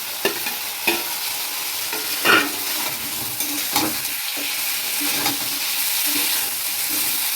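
Fried pointed gourd is stirred in a pan with spices, producing repeated close spatula scrapes and clatters over a continuous loud sizzle, with no talk.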